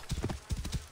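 Rapid clip-clop of horse hooves on hard ground in Assassin's Creed Origins, close and steady, with a brief whinny-like tone mixed in.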